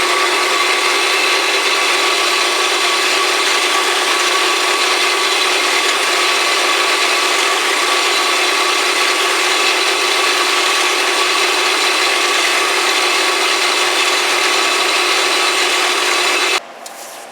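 A drill press boring holes through a leather pancake holster, a steady, loud, continuous whirring grind that runs unbroken before stopping abruptly near the end.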